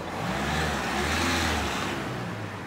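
A car pulling over to the side of the road, with a steady rumbling engine and road noise that swells briefly and then eases off as it slows, nearby and fairly loud.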